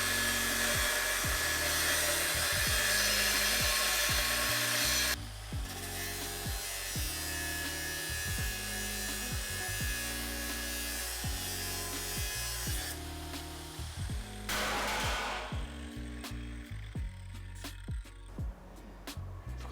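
Power tool cutting through thick steel during demolition work, a loud sustained grinding whine with shifting pitch steps, easing and resuming several times over a low droning bed.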